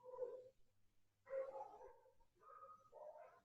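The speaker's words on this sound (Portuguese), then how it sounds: "Tem um cachorro latindo aí, Rodrigo." A neighbour's dog barks a few times in the distance, faint and somewhat muffled, with short pauses between the yips during a quiet indoor session.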